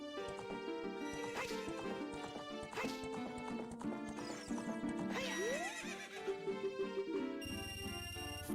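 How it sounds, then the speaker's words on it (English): A horse in a Zelda video game neighs over rhythmic hoof clip-clops during a ride, all mixed with loud, busy game music that carries on throughout. "That was definitely a nice leisurely horse ride up to the archery there."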